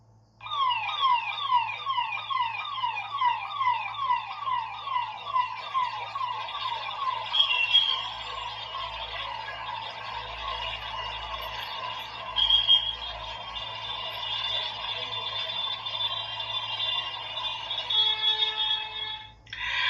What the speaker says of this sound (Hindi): देखिए साहब, तरह से सायरन बज रहा है।